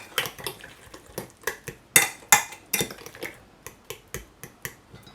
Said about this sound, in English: Let's just mix this in